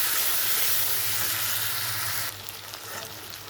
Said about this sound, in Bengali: তো এটা এখন ভালো করে কষিয়ে নিচ্ছি